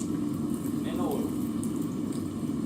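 A hot 1095 steel knife blade is plunged into quenching oil, giving a steady close bubbling sizzle that continues throughout with no talk.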